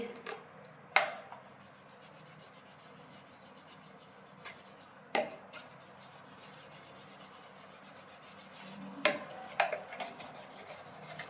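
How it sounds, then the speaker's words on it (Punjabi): A discarded household item is scrubbed clean by hand, with quiet, rough rubbing strokes and a few sharper knocks scattered through the passage, recorded close up. "ਆਪਾਂ ਇਹਨੂੰ ਚੰਗੀ ਤਰ੍ਹਾਂ ਸਾਰੇ ਸਾਫ ਕਰ ਲਾਂਗੇ"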